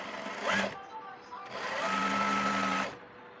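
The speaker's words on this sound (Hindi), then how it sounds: "फोल्ड करने के बाद नीचे वाली आसन वाली सिलाई लगा लेंगे।" A sewing machine stitches a double-folded pajama hem in two short whirring bursts, close and moderately loud, with a voice talking over the stitching.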